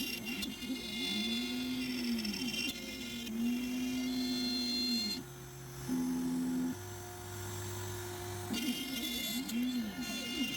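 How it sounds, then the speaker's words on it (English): A CNC router with a 1/8 inch bit refines pockets in the back of a wooden Christmas ornament, its spindle whining steadily while the pitch rises and dips with each pass over a constant machine hum. "I then use the 1/8 inch to do the final refining of the pockets from the back"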